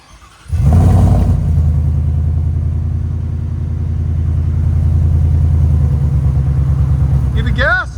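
A supercharged 850+ hp Ford F-150 5.0L V8 with headers and Carven TR exhaust bursts into a loud rev close by, then settles into a sustained throaty rumble that lingers for several seconds before a short voice at the end.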